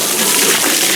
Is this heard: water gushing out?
yes